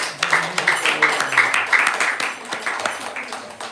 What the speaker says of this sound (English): let's give a big round of applause for Sharan